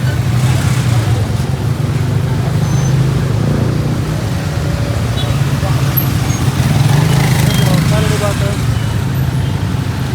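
Loud, dense road traffic rumbles on a night walk beside the Nile, with engines droning steadily and vehicles passing close over a jammed street, while voices talk throughout and a few faint horn-like tones come through.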